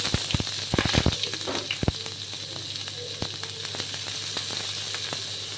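Onion dropped into a hot pan for prawn gravy, crackling and sizzling up close with sharp pops at first, then settling into a softer steady hiss.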